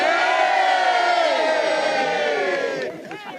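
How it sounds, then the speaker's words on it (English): A crowd cheers and whoops loudly for dads setting off on a charity walk around Anglesey, a sustained burst of overlapping voices that fades near the end. "Let's give a big cheer for the dads, guys."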